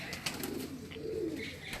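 A prized pigeon coos softly at close range, a short run of low murmuring calls over quiet background noise.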